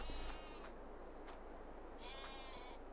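Sheep in the farming game Farming Simulator 22 give a couple of faint, brief bleats over a steady hissing ambient bed, with no talking.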